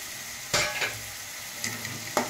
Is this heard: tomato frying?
yes